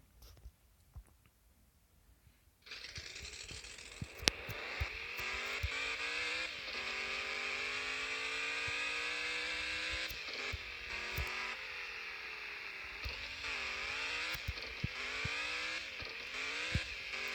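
A speed buggy's engine in the Off-Road Outlaws video game idles briefly, then roars to a sustained high whine, rising and falling in pitch as it shifts and revs, loud and steady for most of the stretch.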